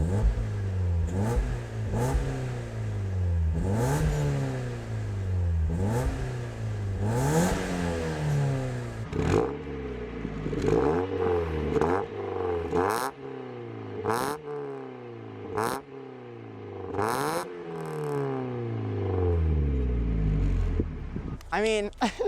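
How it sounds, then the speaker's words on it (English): A 1991 Mazda Miata with its 1.6-litre engine is revved repeatedly, each rev climbing sharply and falling back in a steady series of quick bursts, loud and close, with a few clattering blips near the end. "I'm gonna get in, I'm gonna rev it for you guys just a little bit"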